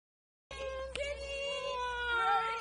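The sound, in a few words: cat meowing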